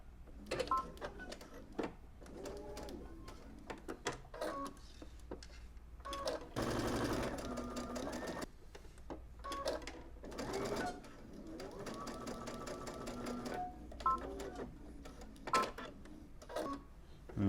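Sewing machine running a long basting stitch around fabric edges, bursts of rapid mechanical whirring that start and stop, with a longer continuous run in the middle, heard close and fairly quiet amid brief pauses.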